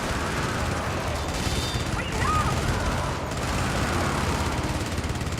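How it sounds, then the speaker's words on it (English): Turret gunfire in a video game, hitting and damaging an exosuit during a retaliatory strike mission: dense, continuous rattling bursts of shots mixed with mechanical clatter and impacts, loud and close throughout. "You'll see the turret do damage to the exosuit."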